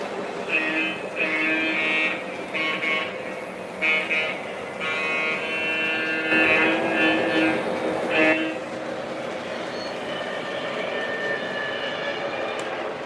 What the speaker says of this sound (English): This engine doesn't sound too good.